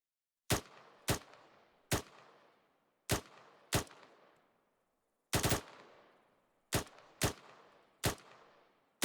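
Rapid rifle fire from a section during military training, a string of sharp, loud shots in irregular pairs and singles, each cracking out and echoing briefly across open ground, with no voices.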